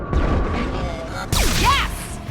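Gunfire in the sci-fi shooter Mass Effect 2, a few sharp weapon discharges with whooshing, sweeping effects, and a voice calling out over the shots.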